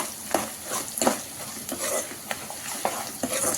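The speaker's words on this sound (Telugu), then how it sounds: "1 స్పూన్ పసుపు వేసి కొంచెం ఫ్రై చేసేసుకోవాలి." Turmeric fried with curry leaves in an oily pan for mango pulihora rice, a close, busy sizzle broken by repeated stirring scrapes and light spoon taps against the metal.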